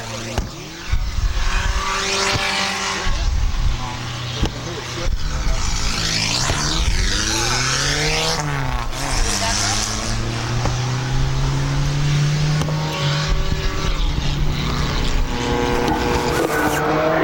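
Car number 83, the GJ racing car of Gary Gibson, runs a qualifying lap at Midvale Speedway in 2008. A loud, sustained engine roar swells and falls in pitch as the car passes, with a steady rumble beneath.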